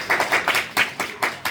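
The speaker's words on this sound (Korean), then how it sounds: "박수 한번 주세요." A youth group at a church service claps in a short burst of applause, several sharp irregular hand claps close by, alone without talk.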